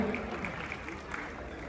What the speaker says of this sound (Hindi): जोरदार एक बार सभी के ओर से तालियां।